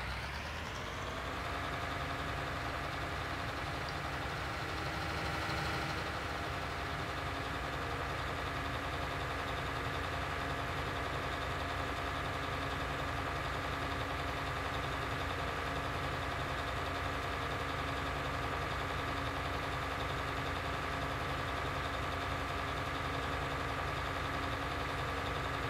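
A vehicle engine drones steadily while driving in Farming Simulator, a constant loud mid-pitched hum that starts up and holds unchanged throughout, with no talk over it.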